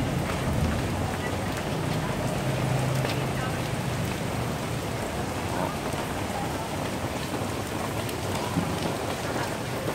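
Heavy rain pours steadily onto a Saigon street, a dense, continuous hiss of drops hitting surfaces close by, with no break for the whole stretch.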